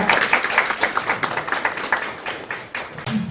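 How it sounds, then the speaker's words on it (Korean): Audience applause at a food policy debate forum fills the room, a steady stretch of clapping with many separate hand claps standing out, fairly close and continuous with no voices over it. "큰 박수로 맞이해 주시면 감사하겠습니다"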